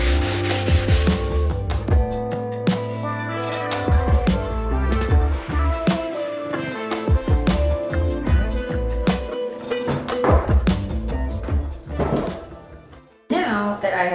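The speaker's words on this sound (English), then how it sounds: "Now that I have sanded both of these down so they're a lot more smooth" Light hand sanding of small wooden hobby pieces, heard as close, repeated rubbing strokes mixed with occasional knocks and handling thuds.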